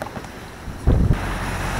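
Wind gusts buffet a solo sailboat crossing the Bay of Biscay, a soft breathy rush at sea with a sharp, louder gust thump near the middle.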